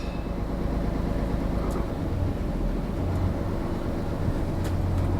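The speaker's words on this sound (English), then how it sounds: "I can hear air building, hit the fast idle, and then as soon as she's aired up, she'll high idle" A truck engine on a cold start holds a fast idle while air pressure builds, giving a loud, steady droning rumble with faint hissing above it. The sound is continuous and close, with no talking.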